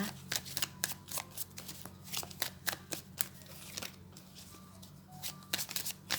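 Tarot cards shuffled by hand in a quiet room, a run of quick, crisp riffling snaps and soft slides over a low steady hum, close and clear, with no talk.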